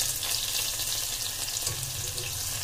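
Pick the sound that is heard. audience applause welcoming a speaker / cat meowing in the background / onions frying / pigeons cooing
onions frying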